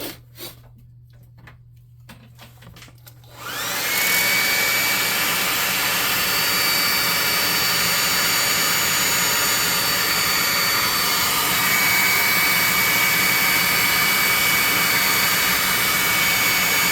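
A hair dryer or hobby heat dryer switches on and blows steadily and loudly over a freshly painted tabletop miniature, a continuous roaring airflow with a faint whine, after a few quiet seconds with small handling noises.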